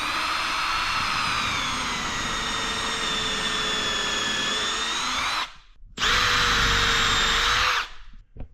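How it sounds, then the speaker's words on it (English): A power drill bores a 5mm pilot hole into wood in a garage, running as a loud, close, steady high whine for about five seconds. It stops briefly, then spins up again for another two-second burst. "Drill a 5mm pilot hole in the center of each marked point."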